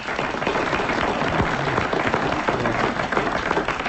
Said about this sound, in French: Applaudissements pour Madame Dagan.